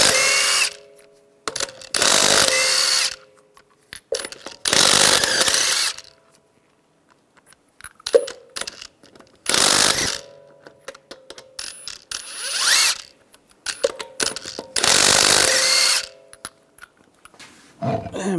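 Impact wrench with a 22 mm socket spinning lug nuts off a front wheel of a 2011-2018 Ram 1500 pickup, six loud, close bursts of rattling power-tool whir, each about a second long, separated by short pauses and faint clinks.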